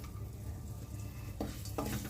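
Peanuts and grated coconut fry in a pan, giving a steady close sizzle with a few scraping stirs of a utensil near the end, no voices.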